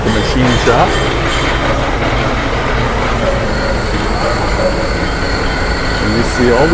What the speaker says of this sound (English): And you see all these pulleys up on the top. And they're all steam powered.